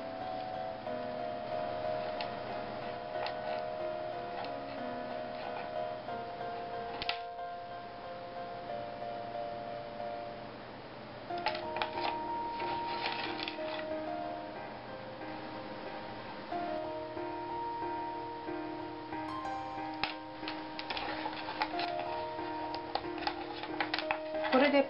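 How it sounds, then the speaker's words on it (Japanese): Scissors cut apart the pieces of a carved rubber printing block for a New Year card: a run of crisp, close snips and ticks over steady background music. "これをハサミで切り離していきます。"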